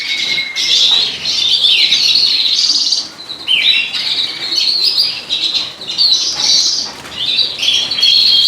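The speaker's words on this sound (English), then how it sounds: "So behind me is where all my native birds are, here at David's Bird Room." Many native birds in an aviary chirp and tweet continuously in a dense overlapping chorus, with fluttering wing sounds, close and lively throughout.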